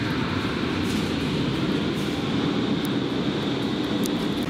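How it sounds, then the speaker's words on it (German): A Berlin U-Bahn subway train passes close by, a loud continuous rumble and roar that holds steady throughout with a faint high whine on top. "Da fahren die U-Bahn."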